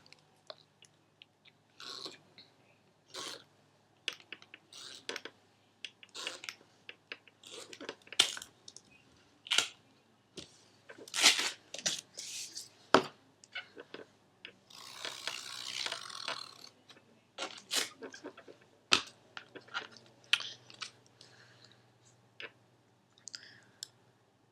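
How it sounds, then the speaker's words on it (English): Strips of tape are cut by hand while a wallet is assembled: scattered faint snips, crinkles and sticky tearing at an irregular pace in a quiet room, with no talking. "I'm just going to cut a bunch of like 3-inch tape."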